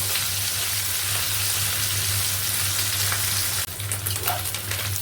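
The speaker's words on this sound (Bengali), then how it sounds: "এবার একটু নেড়ে দেবো।" Loitta shutki dried fish with kochur loti taro stolons fries in oil in a pan, a dense steady sizzle with a low hum beneath and a burst of scraping stirs near the end, no talking.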